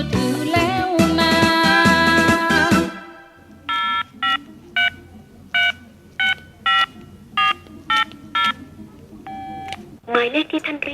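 A mobile phone number is dialed as about ten short keypad tones, evenly spaced and clear, after a louder tonal, music-like passage. A final cluster of tones follows.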